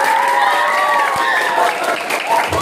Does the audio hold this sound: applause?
yes